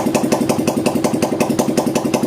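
A Karizma motorcycle engine, running outside its body on a wiring-kit setup, putters in a steady, even rhythm of rapid pulses at close range, loud and unbroken.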